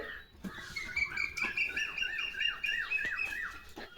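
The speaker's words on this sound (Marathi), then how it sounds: "ती कोकिळा बोलवी ती तुला लागली ती ओरडायला" An Asian koel calls outdoors in a run of repeated rising notes, clear and moderately close, with a few faint knocks and no talking.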